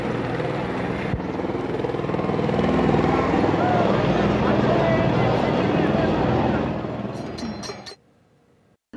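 A helicopter passes over a huge crowd of devotees at a temple fair in Yermala, Dharashiv, showering flowers on the goddess's palanquin. Its dense rotor roar stays loud and steady under crowd noise and voices for about eight seconds, then cuts off.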